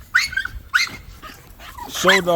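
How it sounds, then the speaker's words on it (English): An American bully show dog lets out a few sharp barks close by, followed by a higher whining yelp at the end. "This is a show dog"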